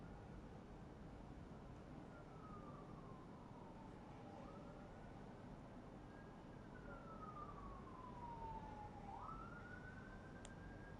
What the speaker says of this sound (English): if you hear sirens again right now, yes, those are outside